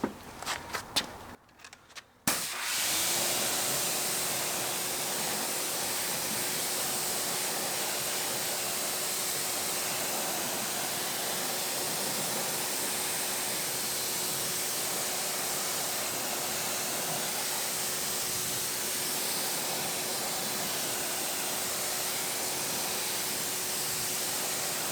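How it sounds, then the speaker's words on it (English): Water sprays steadily onto a car wheel rim being rinsed after cleaning with tire and wheel cleaner, a loud continuous hiss that starts after a few seconds of rustling and handling noise and runs without a break to the end. "I'm going to rinse the rim"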